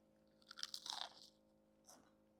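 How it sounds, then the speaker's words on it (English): A close bite into a crunchy salt fish fritter with anchovy gives a burst of crisp crackling crunches, then a short pause and one more quieter crunch. "And you hear how crunchy it is."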